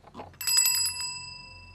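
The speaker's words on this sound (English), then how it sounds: "Ringing a little bell?" A small hand bell rung a few times in quick succession, bright metallic strikes that ring on and fade away over about a second, close and clear after some faint background rustle.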